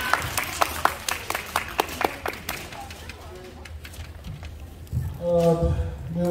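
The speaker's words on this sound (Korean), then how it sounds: "박수로 환영 박수 해주세요" Middle school students clap to welcome a guest lecturer at a school-violence prevention class, starting as a few sharp, spaced claps, then thinning out before a voice begins speaking near the end.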